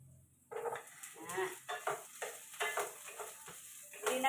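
Pork being sautéed and stirred for pinakbet in a pan, with steady sizzling and repeated scraping, stirring strokes close by, filling the whole stretch after a quiet start.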